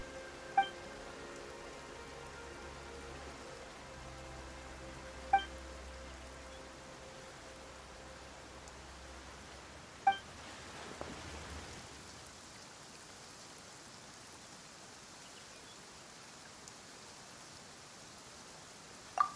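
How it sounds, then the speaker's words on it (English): Soft, steady rain falls in the Genshin Impact video game, a faint even hiss with a low ambient hum beneath it and occasional quiet chime-like ticks. "Why is it raining all of a sudden?"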